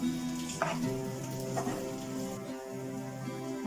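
Onions shallow frying in a pan for creamy garlic chicken, a steady close sizzle with a few stirring scrapes, set against a sustained tonal music bed.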